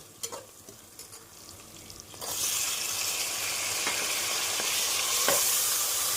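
Onions, tomatoes and ginger-garlic paste sizzle and hiss steadily in a hot pan after a few quiet stirring clinks, the frying growing louder and continuous.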